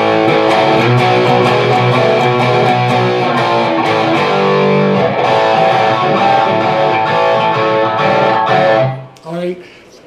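A distorted electric guitar plays a riff, a loud, sustained chordal passage that rings on steadily before cutting off near the end, with a few faint noises after.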